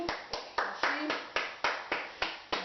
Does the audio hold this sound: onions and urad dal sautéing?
no